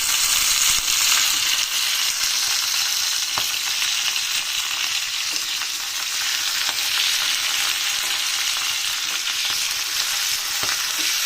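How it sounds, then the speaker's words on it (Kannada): Green chilies and tomatoes warm in a small basket-like pan over a gas flame, giving a steady close broadband sizzle with faint crackles throughout and no voices. "ಮೆಣಸಿನ್ಕಾಯಿ, ಟೊಮೆಟೊ ಎಲ್ಲ ಬೆಚ್ಚಗೆ ಮಾಡ್ತಾಯಿದ್ದೀನಿ"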